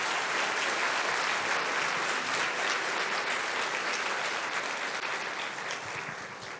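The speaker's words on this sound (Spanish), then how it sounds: "Así que ahora daremos un fuerte aplauso a los hermanos que están haciendo protocolo" Strong, sustained applause from a church congregation honoring the protocol team, a dense wash of clapping that holds steady for several seconds and tapers slightly at the end, with no talk over it.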